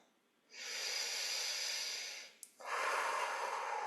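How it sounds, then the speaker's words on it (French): Two long, deep breaths during a guided relaxation exercise, each a steady airy rush that swells and holds for a couple of seconds, separated by a brief pause, close and fairly loud with no talking. "Maintenant, vous allez respirer profondément."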